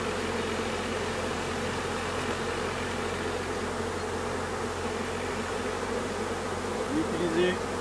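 Honeybees from a newly caught swarm drone steadily at a hive, a dense, even buzz that stays soft and constant throughout with no voices.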